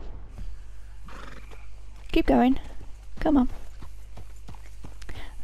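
Horse in Red Dead Redemption 2 ridden near the Saint Denis plantations, giving two loud whinnies over steady clip-clop of hooves, while someone speaks encouragement to it.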